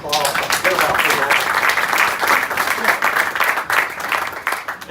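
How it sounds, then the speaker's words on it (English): A room of people at a Pensacola sports chamber gathering gives a round of applause, loud continuous clapping throughout with voices talking over it in places. "I think we ought to give him a round of applause"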